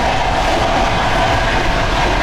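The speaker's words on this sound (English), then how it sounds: "Not too bad for a 1954 train." A 1954 Soviet passenger train runs along the track, a loud, constant rumble and roar heard from inside the carriage, steady and unbroken with no voices.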